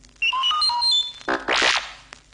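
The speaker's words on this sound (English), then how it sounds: "You will know it is time to turn the page when you hear R2-D2 beep like this." R2-D2 droid beeps and whistles: a short melodic run of electronic chirps and tones, then a rapid warbling burst, loud and close with no talking.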